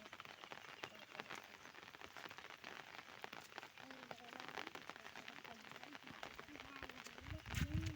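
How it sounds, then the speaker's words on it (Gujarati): Steady rain patters and hisses throughout while someone talks faintly over it. "જો આ બધો વરસાદ ચાલુ છે અત્યારે."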